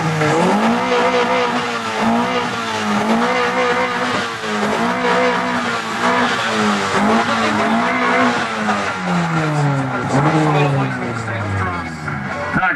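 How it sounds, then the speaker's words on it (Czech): A tuned car at a Japanese car meet revs hard and continuously, engine pitch rising and falling in repeated blips, loud and close throughout with crowd noise underneath. "natoč pořádně motor"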